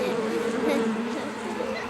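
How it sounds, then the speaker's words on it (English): Bees buzz loudly and close by, a steady droning hum that wavers in pitch as they move around. "Yeah, but do the bees have to come this close?"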